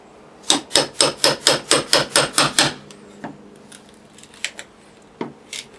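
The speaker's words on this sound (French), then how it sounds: "donc ici on a affaire à des pare-closes en bois. Donc avec une spatule qui est coupée et un petit marteau." A cut-down spatula is driven by a small hammer under wooden glazing beads on a salvaged window, about nine quick sharp metallic taps in an even rhythm, followed by a few scattered scraping clicks, close and loud.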